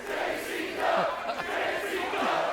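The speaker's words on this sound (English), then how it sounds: "Listen to this crowd" A wrestling crowd at a Juggalo Championship Wrestling versus GCW event roars and chants, a distant, swelling mass of voices rising and falling in waves throughout.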